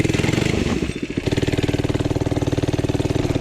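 A cheap Temu mini bike's small engine labors up a short hill, its loud, steady rapid firing pulses dipping briefly then holding a strained, even chug close by.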